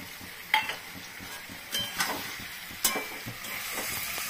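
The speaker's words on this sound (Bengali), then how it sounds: "এখন আমি এখানে কড়াইতে দিয়ে দিচ্ছি।" A spice mix hits a hot kadai for a Bengali jackfruit and prawn dish, soft sizzling with a few sharp scraping stirs and utensil knocks, fairly quiet and close with no talk.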